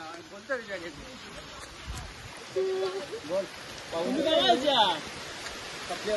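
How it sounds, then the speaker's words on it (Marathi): Water rushes in strongly as a steady, noisy wash beneath excited voices talking and shouting nearby, growing slightly louder toward the end. "हे पाणी आलं, लय पाणी आला जोरान."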